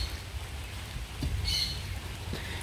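Rain falls steadily on a roof where workers are on the job, a soft, even hiss with a few faint knocks and one brief high squeak, fairly quiet with no talk.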